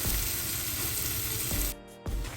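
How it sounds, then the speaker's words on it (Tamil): Eggs added to a sizzling mixture of tomato, onion and green chili while making egg masala fry: loud, dense frying hiss that briefly drops and then surges back, with no talk. "இந்த நேரத்தில் நான் முட்டையை சேர்க்க போகிறேன்"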